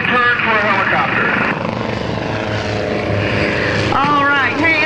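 A helicopter flying aerobatics at an airshow drones loudly overhead with steady rotor chop, while voices talk over the engine noise throughout.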